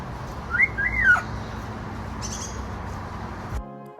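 A green bird at a zoo gives a few clear rising and falling whistles close by, then falls quiet amid low background hum.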